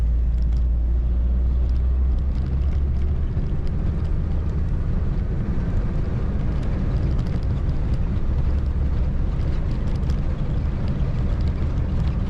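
Wind rushes through an unsealed front window gap of a moving 1947 Bentley Mark VI, a steady, loud broadband hiss layered over low road and engine rumble throughout.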